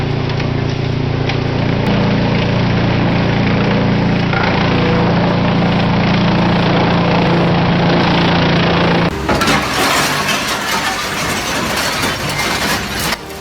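A Petzolato electric wood chipper feeding branches into chips, heard as a loud, steady, dense grinding roar throughout, with an abrupt shift to harsher, brighter shredding noise in the last few seconds.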